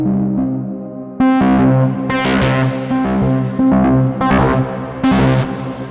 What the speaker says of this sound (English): So this is really cool with the distortion.